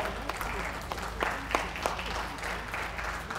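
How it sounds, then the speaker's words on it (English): Audience applause at a gundog group judging during a dog championship show, a steady patter of clapping at moderate distance with a few sharper claps standing out, continuing throughout. "That's right, give them plenty of applause."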